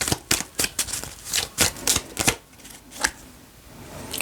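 Tarot cards are riffled and snapped in quick bursts, a series of sharp papery slaps that fade into quieter handling.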